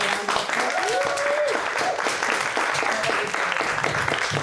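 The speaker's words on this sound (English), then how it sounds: "Please, give everyone a round of applause." Audience applause closing a panel discussion, steady clapping from a room of listeners filling the whole moment, with a voice briefly rising over it.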